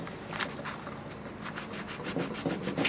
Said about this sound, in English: here's a cloth to wipe the glue